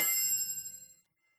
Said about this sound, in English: We can take you from a pin drop